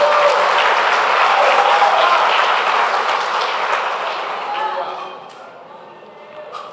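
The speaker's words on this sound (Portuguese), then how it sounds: "Aplauda o Senhor" Congregation applauding during a church sermon, a loud sustained wash of clapping that gradually fades over the last two seconds.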